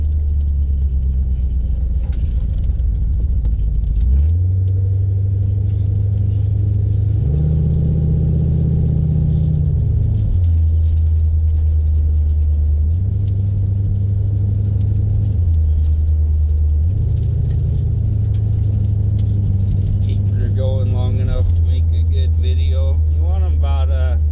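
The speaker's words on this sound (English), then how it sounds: "Probably don't mind hearing the nice rumble of the exhaust on this thing." A car fitted with an Edelbrock 4150 carburetor rumbles through its exhaust, the engine settling to a low idle and then swelling in several steady revs, loud and close throughout.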